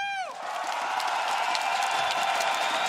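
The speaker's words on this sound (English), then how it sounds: "Good applause." Crowd cheering and applause at an esports grand final between Gambit and Team Secret at ESL One Katowice 2019, a steady wash of clapping and shouts that swells right after a brief electronic tone at the start.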